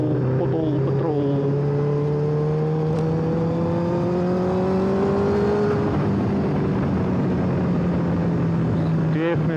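A 2009 Honda CBR1000RR Fireblade engine pulls steadily and loudly, its pitch climbing slowly through a long surge with wind rush throughout.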